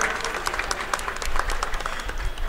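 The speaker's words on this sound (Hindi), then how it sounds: "एक जोरदार तालियों से आप इनका उत्साहवर्धन करें" Steady crowd applause fills an Independence Day 2022 flag-hoisting and honouring ceremony in Dhanbad, a dense, continuous clapping from a large audience held at an even level throughout.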